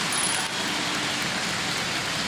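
Steady rain falls over an outdoor baseball stadium during a 2005 playoff game between the Chicago White Sox and Los Angeles Angels of Anaheim, a constant broadband hiss with no talk over it.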